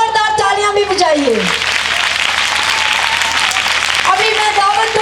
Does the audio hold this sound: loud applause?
yes